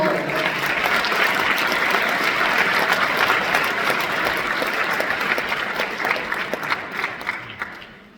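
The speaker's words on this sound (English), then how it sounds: "can we please give one more round of applause to Dr. Ron Hansen, Professor Daniel Addingto" Loud, sustained applause from a concert audience at a high school honor band performance with a percussion ensemble, a dense, steady wash of clapping that fades slightly near the end.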